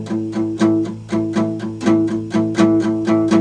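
A guitar power chord struck over and over in a steady, driving rhythm, each hit ringing briefly, loud and close, with no voices.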